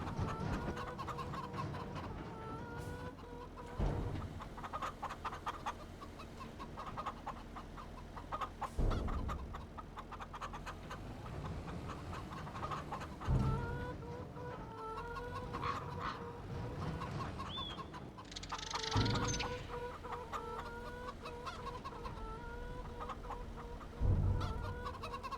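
Chickens cluck steadily on a farm in the Farming Simulator 25 video game, a continuous layered flock chatter with occasional louder squawks and no talk.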